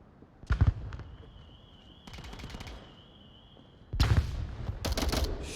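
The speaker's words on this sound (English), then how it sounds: "Shots from the Vikings." Bursts of gunshots crack out in a competitive VR shooter match, a short volley, a longer stuttering stretch, then heavier rapid fire toward the end, loud and close with little talk.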